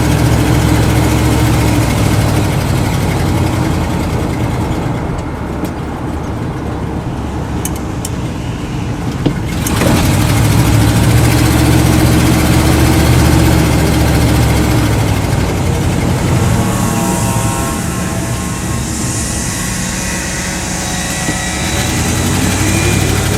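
A 1979 Dodge 100 pickup truck's engine runs steadily just after a cold start with a newly fixed choke, a loud, close, continuous rumble with slight shifts in pitch and no talk.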